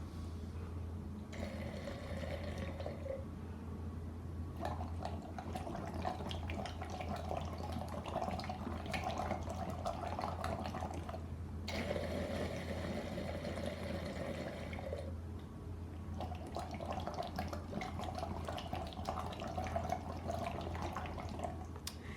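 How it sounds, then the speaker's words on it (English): Breath is blown out through a tube into water with a BreathSlim singer's breathing trainer, making a steady low bubbling burble. It comes in several long exhalation bursts with short pauses between them, close and fairly quiet, with no talk. "round one, as I said, is breathing in through the nose, out through the water"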